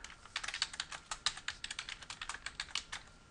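Rapid, close keystrokes on a computer keyboard come in an uneven run of crisp clicks, with a few heavier taps such as the Tab key, and no voices.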